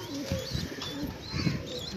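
Soft low cooing from a female pigeon, a cross of French and Moti breeds and an old breeder hen, kept on a rooftop loft, heard close as repeated murmuring coos over faint background chirps.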